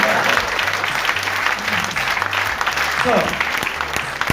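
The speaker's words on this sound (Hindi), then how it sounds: "ये बार तालियां बजा लो" A seminar audience claps loudly and steadily for several seconds, a close, continuous burst of applause with some voices under it.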